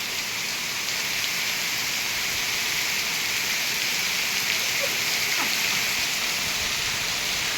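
Heavy rain pours down steadily in a dense, unbroken hiss that stays loud and even from start to finish, with no gaps or lulls.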